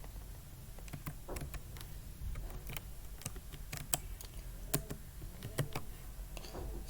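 Rapid, uneven clicking of computer keyboard keys as Java code is typed, with sharper key strikes scattered throughout over a low steady hum, close and fairly quiet, no talking.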